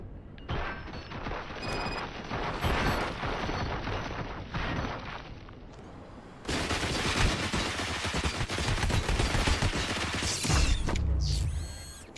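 Gunfire in the RoboCop video game, a long stretch of rattling shots and mechanical clatter at moderate volume that grows denser and louder midway and ends in a heavier burst, with no talking.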